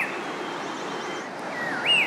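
Chestnut-crowned laughingthrushes of the grey-crowned Bhutanese race call over a soft, steady background hiss, giving one clear, loud whistled note near the end and faint, distant chirps before it.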